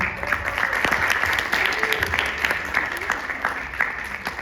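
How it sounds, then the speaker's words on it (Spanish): A conference audience applauds steadily after a speaker is introduced at an event on feminism and justice for women, dense clapping filling the room throughout without pause. "Un aplauso, por favor"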